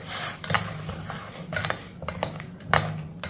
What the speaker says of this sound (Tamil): லைட்டாக கிண்டி விட்டுக்குருவோம்.